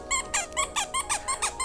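A rubber squeaky dog toy is squeezed rapidly, giving about seven loud, shrill, evenly spaced squeaks, close and with no voices over them.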